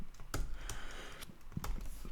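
Fingers type on a computer keyboard during a Ruby on Rails coding session, a quiet, uneven run of soft clicks and key taps close to the microphone.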